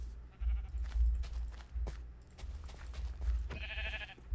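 A sheep in Minecraft gives a brief nasal bleat near the end, heard over low thumping game sounds and scattered clicks.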